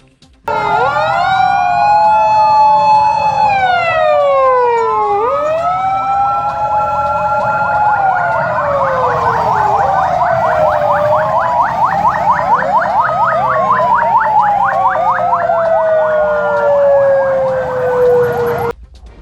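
Wailing ambulance sirens from private ambulances joining a motorcycle rally in Kotli, Azad Kashmir, several overlapping sweeping tones, loud and close, sounding continuously with no talking.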